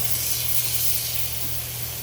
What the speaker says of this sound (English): You want to hear a sizzle when you put it in the pan.